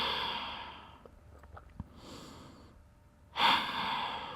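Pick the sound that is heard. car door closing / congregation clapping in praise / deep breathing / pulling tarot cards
deep breathing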